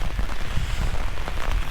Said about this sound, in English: I do not want to be walking in the pouring down rain talking to y'all today.